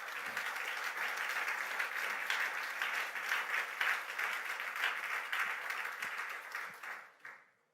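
A church congregation applauds and cheers for the King of Kings during a French-language sermon, steady dense clapping that carries loudly for several seconds before fading out at the end.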